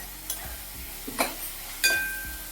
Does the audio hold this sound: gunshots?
no